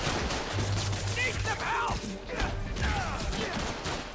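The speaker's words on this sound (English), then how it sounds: "Stop shooting guns at me for 5 minutes." Enemy gunfire in the video game Spider-Man Miles Morales, bursts of rapid shots crackling amid game effects, with a player's voice over the action.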